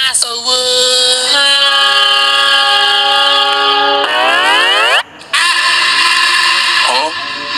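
An approaching train sounds its horn in long, loud, sustained blasts that bend downward in pitch, break off for a moment, then sound again, close and dominant.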